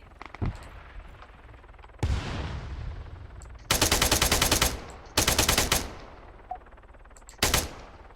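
Gunfire in the video game Arma 3 comes in repeated bursts: a couple of single sharp shots, then longer rapid automatic strings, loud and close, separated by quieter stretches of ambient noise.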